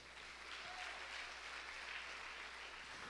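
A church congregation gives a round of applause during a sermon, a steady, moderately distant patter of many hands clapping that continues evenly without voices over it.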